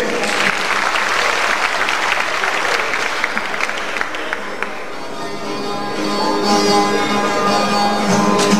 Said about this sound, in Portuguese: Com os aplausos de vocês.